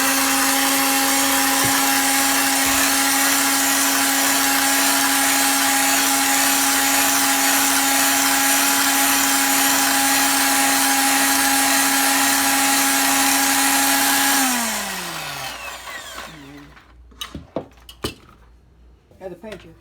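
An electric hand mixer beats egg whites in a bowl for a chocolate pie meringue, a loud steady whine that winds down near the end, followed by clinks of beaters and utensils.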